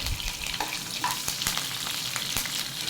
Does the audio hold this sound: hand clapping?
no